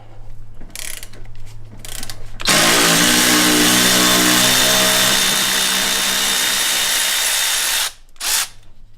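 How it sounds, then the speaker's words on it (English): A 10mm socket on a ratchet drives a brake knuckle bolt on a Ford S550 Mustang GT during a Brembo brake swap. The tool whirs loud and continuous for about five seconds, with faint clicks before and after. "grab your 10mm socket. We're gonna go ahead and break this loose."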